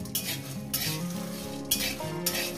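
Cashews dry-roasting in a dry wok over low heat rattle and scrape under a stirring spatula, with a few clinking strokes against the metal and a faint crackle between them.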